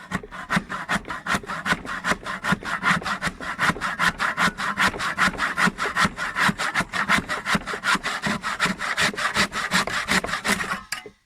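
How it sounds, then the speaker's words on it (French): A hand saw cuts through wood for a terrace and kennel build in a steady, fast back-and-forth rhythm of rasping strokes, close and loud throughout and stopping abruptly at the end. "Une belle scie."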